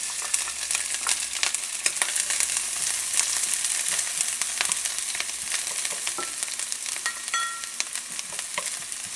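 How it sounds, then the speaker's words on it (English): Onions sizzling in oil in a skillet over medium heat, a dense, even crackle with scattered sharp pops throughout, close and steady at moderate level, no talk. "To this oil, I'm going to go ahead and add the onions."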